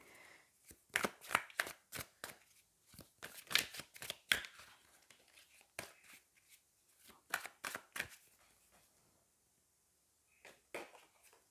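Tarot cards being shuffled and drawn, close dry riffles and slaps in uneven bursts separated by short quiet gaps, fairly soft and with no voices.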